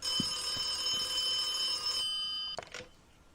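A telephone rings inside a phone box in the video game The Occupation, its shrill electronic bell tone sounding steadily for about two seconds before cutting off, followed by a couple of brief clicks.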